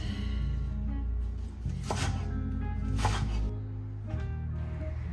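A knife presses down through a bundle of freshly harvested chives on a board, giving a few close, crunchy chopping cuts spaced across several seconds over a steady low background hum.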